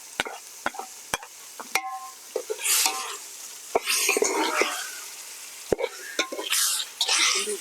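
Tomatoes are frying in a pan with ginger garlic paste for a chicken gravy, giving a soft sizzle with sharp spoon clicks against the pan and bursts of louder hissing, close by with faint talk.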